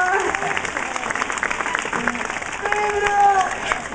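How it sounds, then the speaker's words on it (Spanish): An audience claps at a parrot show at PortAventura while someone shouts loudly over it. Thin whistle-like tones cut through the steady applause near the end. "¡Venga, fuerte, fuerte, el aplauso!"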